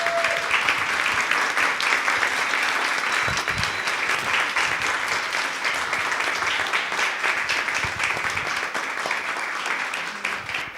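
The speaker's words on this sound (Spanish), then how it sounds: "pedirles un aplauso para todas ellas." Audience applause at a music event with a band, a loud, sustained roar of many hands clapping continuously for about ten seconds, with faint crowd murmur beneath.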